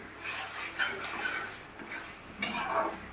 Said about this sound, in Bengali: এইভাবে ভালো করে চিকেনটাকে কষিয়ে নিতে হবে।